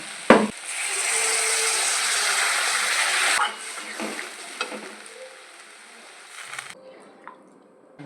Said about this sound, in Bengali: ভালো করে আলুর সাথে কষিয়ে নেব আমার কষানো হয়ে গেছে এবার দিয়ে দেবো জল